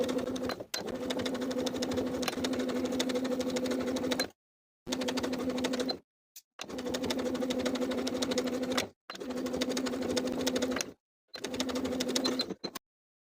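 A sewing machine edge stitching bias tape trim on athletic shorts, running in five steady bursts of a few seconds each with brief silent pauses between, loud and close.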